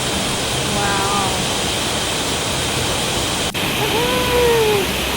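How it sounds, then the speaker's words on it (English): Broadband, steady rush of a waterfall fills the whole stretch, loud and continuous, with a few faint whistling tones and a brief dropout partway through. "Waterfall! Waterfall!"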